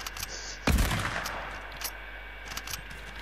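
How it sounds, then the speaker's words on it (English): Assault rifle fire in the Fortnite Reload video game: a single sharp, loud shot burst near the start, followed by a lingering game ambience with faint scattered clicks and effects. "I'm shooting at wood."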